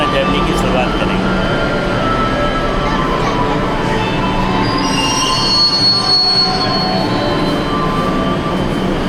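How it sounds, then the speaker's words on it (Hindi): A train pulls into a station on an educational trip, its wheels squealing loudly and the railcars rumbling close by in a continuous grinding roar, with voices faintly audible underneath. "तो ट्रेन आ चुकी है और हम लोग यहीं से अपना जर्नी की शुरुआत करेंगे"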